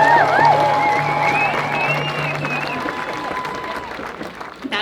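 A crowd at an outdoor political rally applauds, with sustained clapping that is loud at first and gradually fades. A voice speaks over the opening of the applause.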